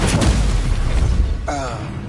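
A Confringo spell explodes in Hogwarts Legacy with a loud, close boom and crackling blast that dies down, followed by a brief voiced shout.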